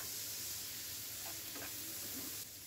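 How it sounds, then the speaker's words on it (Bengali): Prawns, onion, capsicum and green chili fry in hot oil with a constant close sizzle and hiss, broken by a few soft stirring scrapes before the sizzle eases slightly at the end. "এখন সব কিছু তেলের মধ্যে খুব ভালোভাবে একটু ভেজে নিব"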